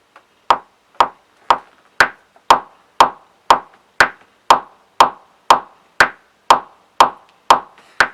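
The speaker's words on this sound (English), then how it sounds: "One typical piece of crap that can be very, very useful is the click track." Steady metronome clicks, sharp and evenly spaced about every half second, sixteen in a row with nothing else around them.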